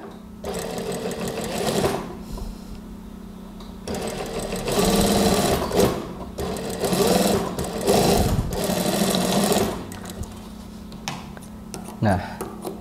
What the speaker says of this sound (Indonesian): Kemudian baru saya jahit sekira-kira sama dengan sisi yang sebelah tadi kita jahit ya.